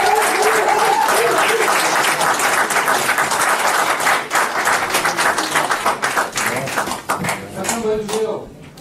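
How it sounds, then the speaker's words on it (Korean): Audience applause for the Democratic Party candidates at a joint declaration event about relocating Seoul Air Base, loud sustained clapping from a crowd that thins toward the end, with voices speaking over it. "더불어민주당 네 분 후보님께 다시 한번 뜨거운 박수 부탁드리겠습니다."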